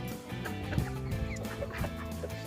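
A flock of chickens clucks steadily at close range, overlapping calls repeating throughout, with no voices.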